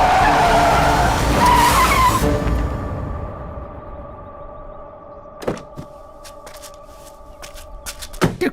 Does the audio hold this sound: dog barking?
no